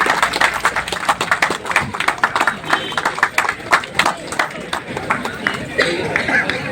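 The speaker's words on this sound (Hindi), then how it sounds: "जोरदार तालियां बजनी चाहिए मैम के लिए।" Outdoor crowd at a rainy monsoon marathon in Rangat, Middle Andaman, clapping for a guest of honour; uneven, scattered handclaps with chatter and a loudspeaker voice running over them throughout.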